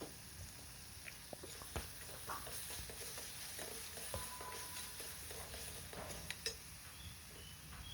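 Chopped tomatoes with salt being stir-fried in a pan, a soft continuous sizzle with scattered light scraping and stirring clicks, steady and fairly quiet throughout.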